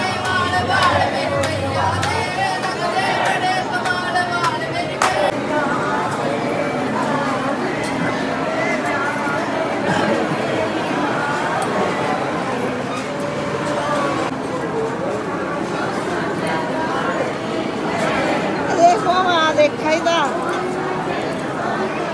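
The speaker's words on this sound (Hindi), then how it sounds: "आप लोग देख सकते हैं कितनी ज़्यादा भीड़ है" A dense, continuous murmur of crowd chatter fills a packed temple queue, with many overlapping voices close by and occasional louder calls throughout.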